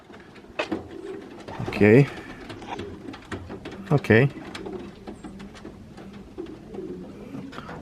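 Pigeons cooing in an aviary in a loft converted from an old barn, giving two clear throaty coos close by over soft fluttering and background chatter, with someone speaking briefly.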